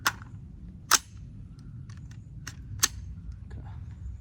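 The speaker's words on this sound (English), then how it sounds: "We're gonna shoot this unsuppressed first." Test firing of a Noveske 11.5-inch AR upper shooting mixed 55-grain ammunition without a suppressor, a few sharp distant-sounding shots spaced about a second apart over a low outdoor background.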